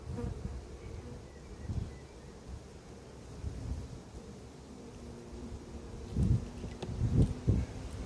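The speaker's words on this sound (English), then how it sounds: "So they've got the flying bees" Honey bees fly and buzz around an open hive at an apiary during swarming season, a steady soft drone with louder swells as bees pass close. Faint wind noise sits underneath, and no one speaks.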